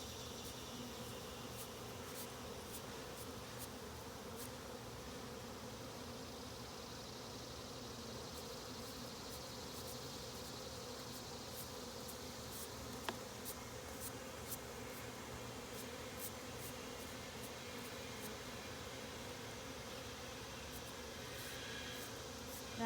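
Steady, dense buzzing of many honeybees close by as bees are shaken and brushed off a hive frame, a continuous drone with occasional faint clicks and no voices.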